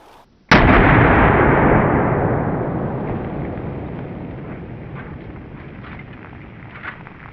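A single loud, close AK-50 rifle shot at Pepsi cans outdoors, a sharp blast after brief quiet followed by a long rolling echo that slowly decays over several seconds.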